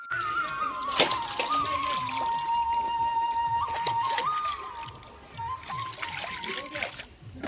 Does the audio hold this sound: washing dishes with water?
yes